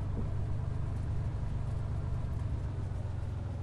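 A Cessna 182 in a flight simulator game idles roughly as if close to stalling, a steady low droning engine hum that stays even and moderately faint throughout with no voices over it.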